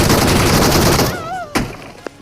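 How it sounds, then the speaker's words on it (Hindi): M4 rifle fire in the mobile game BGMI: a dense, rapid burst of loud automatic shots that cuts off, followed by a couple of sharp isolated clicks and thumps. "उसने M4 का प्री फायर दिया"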